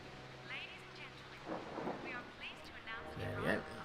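Faint thunder rumbles and soft rain patter over a Jurassic Park: Operation Genesis park during a storm, low and distant beneath a person talking.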